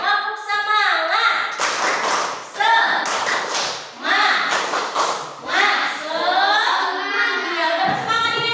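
A classroom of pupils in a fiqh lesson performs the 'tepuk semangat' chant, with sharp rhythmic hand claps in bursts between sung and spoken group voices, close and lively.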